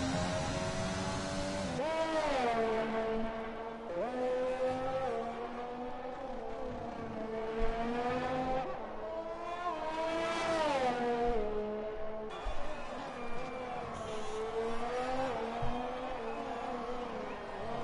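An AlphaTauri Formula 1 car in F1 2020 pulls away on its out lap, its engine note climbing and dropping through gear changes as it accelerates, loud and steady throughout.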